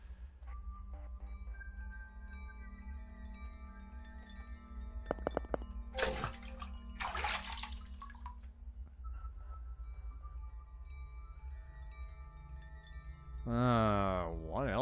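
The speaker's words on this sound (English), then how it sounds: "I think we need the water for something, so can I go refill it?" Water refilling in the video game Ib: two short bursts of splashing and pouring mid-clip over a quiet background hum, then a brief wavering tone near the end.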